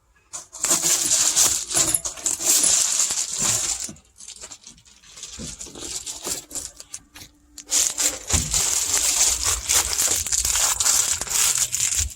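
Backing being peeled and torn off cheap sound-deadening insulation laid on the floor of a 1962 Comet, a loud, continuous crackling rip with a short quieter pause midway before resuming.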